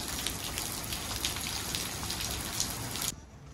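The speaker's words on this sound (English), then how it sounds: "it started pouring rain" Heavy rain pours down in a small town in Uzhhorod, Ukraine, a dense, steady hiss of drops drumming on surfaces, loud and continuous before cutting off abruptly near the end.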